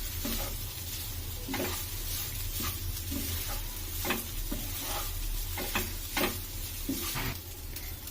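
Vegetable fried rice stir-fried in a pan, with a steady close sizzle throughout and repeated scraping, tossing strokes of a spatula at an irregular rhythm.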